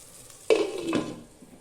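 Fish curry cooking in a pan gives a short burst of stirring and sizzling that starts abruptly, holds for about half a second, then fades to a quieter simmer. No one speaks.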